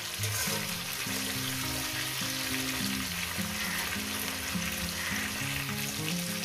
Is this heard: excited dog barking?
no